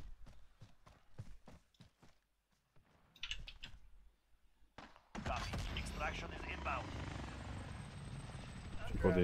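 In the game Call of Duty Warzone, a helicopter's loud, steady rotor roar sets in suddenly partway through after scattered clicks and taps, with people talking nearby.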